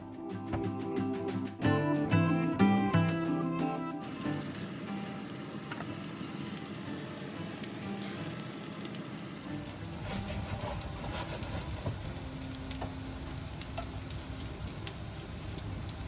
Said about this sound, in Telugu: ఇప్పుడు మనము షాలో ఫ్రై చేసుకుందాం ప్యాటీస్ని.